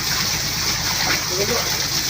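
Spring water splashes and gushes steadily during an outdoor shower, a dense continuous rush of water heard close up.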